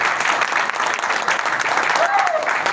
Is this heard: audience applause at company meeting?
yes